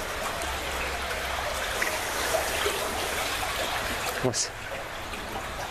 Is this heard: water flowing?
yes